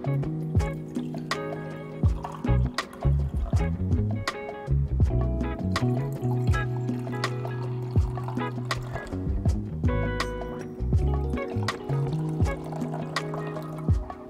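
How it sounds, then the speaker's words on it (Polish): Water is poured into glass beakers, 100 ml per beaker, during a science demonstration on fresh and salt water; liquid splashes and trickles fill the clip as a steady pour, close and fairly loud, with no talking. "I teraz do każdej zlewki leję 100 ml wody."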